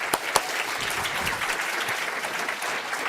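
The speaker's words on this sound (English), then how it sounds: "Let's give her a round of applause" Audience applause for a lecture assistant, a high-speed camera operator, fills a talk on strings, spaghetti and splashes; steady clapping across a room with a couple of sharp claps standing out early.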